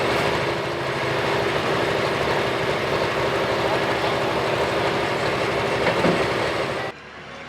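International 966 pulling tractor at a truck and tractor pull, its engine idling with a steady, loud, rumbling drone that runs throughout and drops off abruptly near the end.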